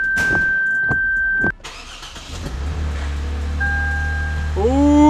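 A Lexus engine, just back together after a valve cover gasket repair, cranks and catches in a garage. A clicking starter whir cuts off, then the engine settles into a low, steady idle and rises in pitch as it revs near the end.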